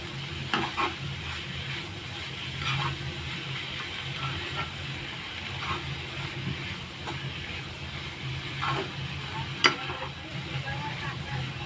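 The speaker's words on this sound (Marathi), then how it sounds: "आता भाजी आपण त्यामध्ये घातली आहे, ती आता परतून घेऊया त्यांना." Bharangi wild greens being stirred and sautéed in a pan, a steady low sizzle with intermittent scraping stir strokes and a sharp clink near the end, heard close and continuous.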